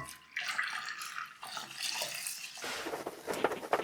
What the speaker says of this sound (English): Then we'll add the milk